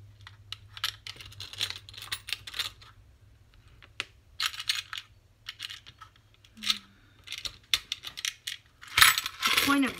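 Small metal craft eyelets, some painted, rattle and clatter as they tumble out of a box onto a surface, with scattered clinks and jingles in several bursts and a louder spill at the end.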